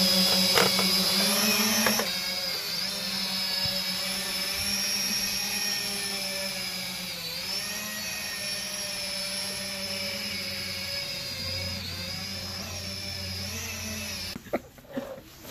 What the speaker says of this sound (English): then we'll launch the drone and we'll see what it looks like